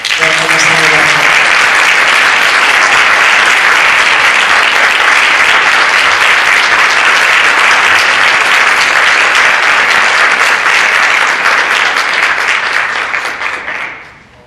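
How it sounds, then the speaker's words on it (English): A big round of applause welcomes a senator at a black tie gala in Orange County, Florida, a loud, dense crowd ovation sustained for many seconds before tapering off. "big round of applause"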